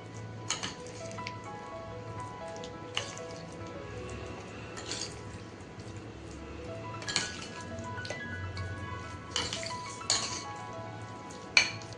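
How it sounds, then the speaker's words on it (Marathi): Utensils clink and scrape against a dish as roasted eggplant bharit is mixed with raw oil and coriander, light irregular taps and knocks close by over a quiet background, with sharper clinks toward the end. "आता हे पूर्ण मिक्स करून घेऊ बघा."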